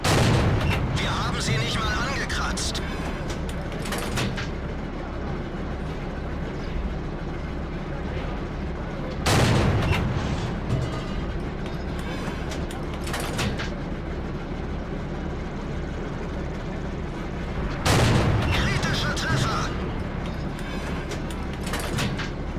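Tank gun shots from a T-25 in World of Tanks, three loud broadband blasts spaced several seconds apart over steady engine and battle rumble, with a voice talking throughout.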